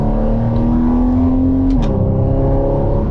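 A Porsche Cayman 981 with the 2.7 engine and PDK gearbox hums at steady revs, then drops to a lower pitch as a paddle downshift clicks through, a close, continuous engine note with no voices.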